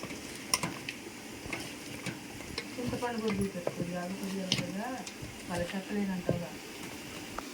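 Pieces of goat head meat with turmeric are stirred and mixed in a pot, giving irregular metallic scrapes and clinks amid light sizzling while a voice talks.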